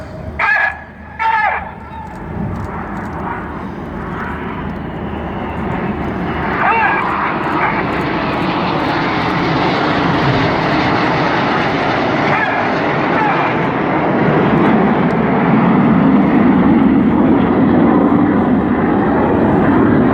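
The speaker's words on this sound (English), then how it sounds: "The inside pilots pitch up to the outside as they fly the rollbacks." Red Arrows jets flying an airshow display at the Sunderland International Airshow, a loud sustained engine roar that swells and builds steadily over the whole stretch, with brief crowd or commentary sounds near the start.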